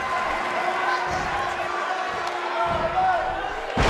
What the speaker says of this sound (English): She slams her down with great force.